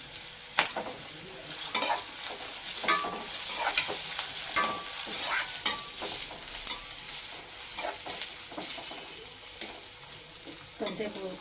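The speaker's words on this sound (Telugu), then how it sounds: "కొంచెంసేపు ఉల్లిపాయలు ఉడికిద్దామండి." Onions frying in a pan for a vada curry, a bright sizzle close up with frequent stirring scrapes and clatter of a spoon against the pan throughout.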